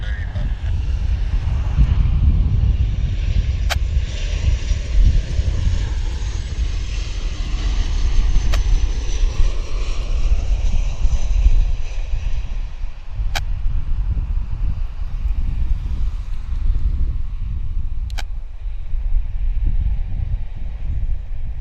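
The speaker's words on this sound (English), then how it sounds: "here's our Cathay Pacific trundling along to the gate" Cathay Pacific airliner taxiing to the gate at Vancouver Airport, a steady low engine rumble and whine heard from outside amid wind noise, fading slightly over time.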